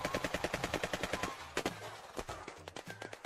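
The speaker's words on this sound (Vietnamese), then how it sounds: "Làm sao bọn chúng có nhiều súng tiểu liên như vậy được?" Rapid submachine gun fire rattles out in quick repeated bursts, loud and close, with several sharper single shots and cracks scattered among the volleys in a dramatized battle scene.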